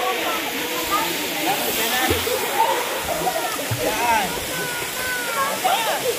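Puray Falls waterfall in Montalban, Rizal, a steady loud rushing hiss of falling water close by, with people talking faintly over it.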